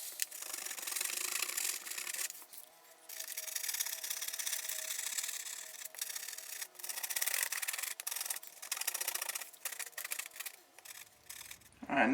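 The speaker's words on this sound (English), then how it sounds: "I like to use it when I'm sanding down the glue that we have left over." Steady rough rubbing strokes of a sanding block scraping leftover glue off a model railway track bed, repeating with short pauses, close and fairly quiet.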